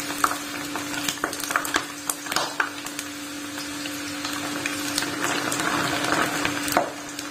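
Chana dal namkeen mixture frying in hot oil, a steady close sizzle broken by irregular crackles and stirring scrapes, with a faint constant hum behind it and no talking.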